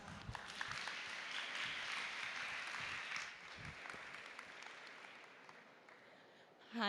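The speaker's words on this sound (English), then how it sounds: "Please give her a round of applause." Audience applause at a research week talk, a steady moderate clapping that fades over about six seconds before a brief louder sound at the very end.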